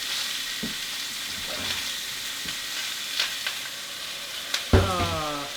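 Pork chops sizzle loudly in a hot pan, a steady close frying hiss dotted with sharp crackles and pops, with a brief tonal sound near the end.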